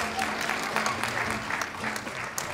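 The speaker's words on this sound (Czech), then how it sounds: "zatleskejte Mírovi." An audience claps for a volunteer at a comedy magic show, with steady, close, lively applause that runs throughout the short stretch.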